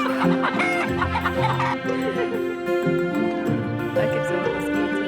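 Laying hens cluck steadily on a German egg farm, with about 300 eggs laid a day; the dense, overlapping calls fill the whole stretch close by, with a voice faintly underneath.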